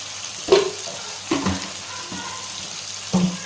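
Chili powder frying in a pan for tomato rice gives a steady, quiet sizzle, broken by three or four sharp clanks and scrapes as it is stirred.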